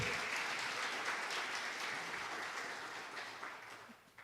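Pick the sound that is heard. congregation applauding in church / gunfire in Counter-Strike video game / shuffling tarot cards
congregation applauding in church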